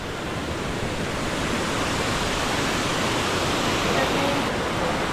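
Water rushes in a dense, steady roar at Ravana Ella waterfall, loud and unbroken throughout.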